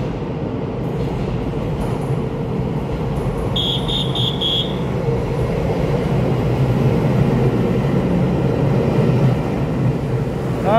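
A Puyuma Express TEMU2000 tilting train pulls out of a station, a continuous loud rumble of wheels and motors with a brief electronic buzzer tone partway through, close and steady throughout.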